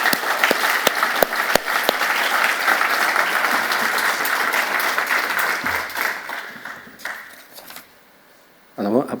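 Round of applause from the audience at a kidney patient event, with a few sharp claps near the mic opening into steady crowd clapping that fades away. A voice starts speaking near the end.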